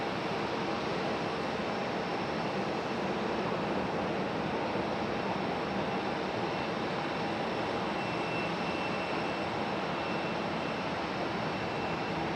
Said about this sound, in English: A little double landing action happening.